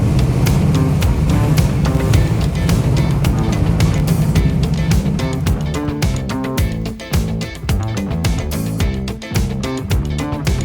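A 1965 Sunbeam Tiger, British roadster with an American V8, roars loudly and continuously up close, with a rough throbbing engine note sustained throughout the run.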